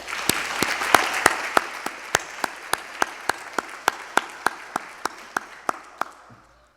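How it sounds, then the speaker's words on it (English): Clapping at a community college campus convocation ceremony for faculty and staff. The diffuse crowd applause is overlaid with a prominent, steady rhythmic clap repeating about every third of a second, fading out near the end. "I would like to thank and give a big round of applause to our faculty and staff here at Shelburne Campus"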